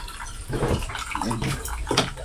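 Water gushes into a container in a steady, splashy rush that swells in bursts, with faint voices in the background.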